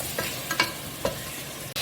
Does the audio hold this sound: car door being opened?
no